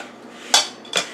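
Two sharp clinks of a knife against a bowl while boiled potatoes are cut up, each a brief metallic tap a fraction of a second apart, close and fairly quiet.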